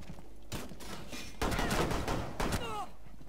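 Gunfire in Rainbow Six Siege, a burst of rapid shots followed by another short volley, moderately loud with a brief voice trailing behind.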